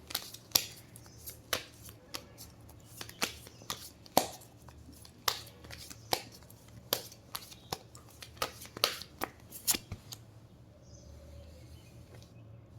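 Tarot cards are shuffled and drawn by hand, giving a series of crisp, close flicks and slaps at an irregular rhythm over about ten seconds, then a quieter stretch.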